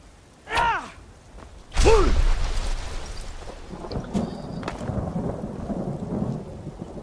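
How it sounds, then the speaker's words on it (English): Thunderstorm with rain in the video game Skyrim: two loud thunder cracks rumble in close succession near the start, then steady rain patters on under a faint background wash. "It's a stormy night in Skyrim."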